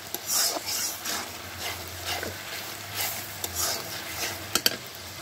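Onion, ginger, garlic and turmeric being stir-fried with spices in a pan, giving a steady close sizzle broken by repeated scraping strokes of a spoon and a couple of sharp clinks near the end.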